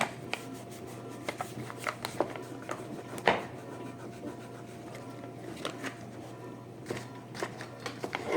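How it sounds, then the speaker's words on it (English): Soft rubbing and scratching as framing material is creased to an edge before cutting, with irregular small scrapes and taps, close and quiet, no talk. "I'm going to crease it to the edge so I know where to cut it"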